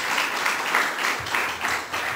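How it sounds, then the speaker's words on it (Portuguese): A church congregation applauds during a worship service, a steady wash of many hands clapping at moderate level with gentle swells, no voices over it. "Vamos aplaudir o Senhor, amém, queridos?"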